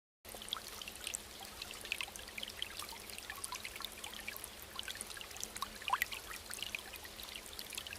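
Faint running water from a tap while a face is washed, a steady soft trickle and splash with occasional drips, quiet and without speech.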